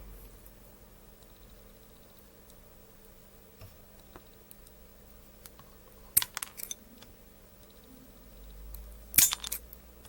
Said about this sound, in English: And cut with the scissors.